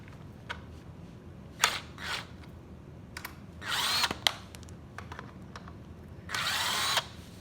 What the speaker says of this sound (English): So I just have this into a little impact drill so we can remove it a little bit faster.